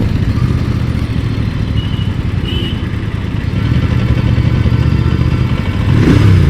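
Road traffic rumbles around a moving Royal Enfield Bear 650 motorcycle, engine noise and passing vehicles blending into a continuous, close, fluctuating roar.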